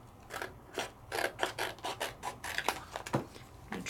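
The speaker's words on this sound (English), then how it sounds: "I'm just gonna cut me a piece." Scissors cut freehand through a sticky sheet up close, in a quick run of about a dozen crisp, rasping snips with short gaps between them, alone and with no talk.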